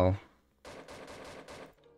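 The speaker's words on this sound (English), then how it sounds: "They have guns in this game?" Gunfire in a Roblox zombie survival game, a short rapid burst of about five automatic shots, moderately loud after a brief spoken sound.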